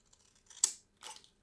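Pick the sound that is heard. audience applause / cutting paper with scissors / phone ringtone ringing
cutting paper with scissors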